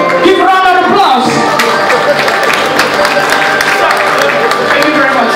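An audience at an Indian magic show claps and cheers in a steady, loud burst of applause with scattered shouts, briefly mixed with a voice.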